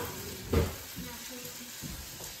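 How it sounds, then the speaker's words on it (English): Quiet sizzling of peppers being stir fried in a pan, with a brief louder scrape of stirring near the start, steady and continuous throughout. "starting to stir fry the peppers"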